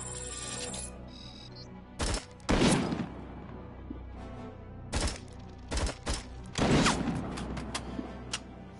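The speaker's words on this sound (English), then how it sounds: "Saw rifle has like so much kickback." Saw rifle in the Robocop: Rogue City video game, several loud gunfire bursts in irregular clusters with short gaps of quiet between them.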